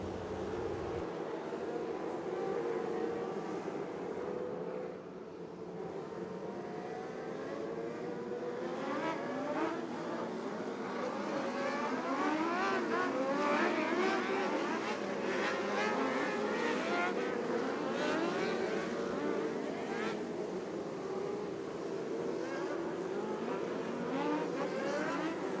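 Outlaw winged sprint race cars at Southern Illinois Raceway rumble loudly together as they line up two by two for the finale, a steady dense engine roar with rising revs throughout.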